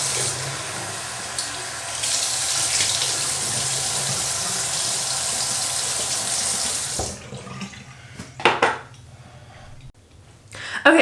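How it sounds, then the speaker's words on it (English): Water runs from a tap into a container for flushing LECA clay pebbles, a steady loud gush that stops after about seven seconds, followed by sloshing and handling noises. "I just fill it up and then kind of hold the leca in and then tip it upside down like this"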